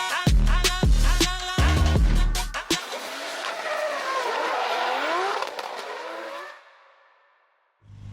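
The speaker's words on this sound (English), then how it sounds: "We're about to go out and see some drifting." Drift cars at an event at Elmia rev hard and squeal their tires, a loud burst of engine roar and gear changes followed by a long, wavering screech of rubber that fades away into quiet.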